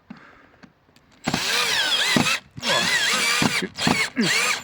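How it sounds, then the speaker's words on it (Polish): A power drill drives a screw into a trim strip on a Niewiadów N126 caravan, whirring loudly in several close bursts separated by brief pauses. "Wkręcika bierzemy i wkręcamy drugiego."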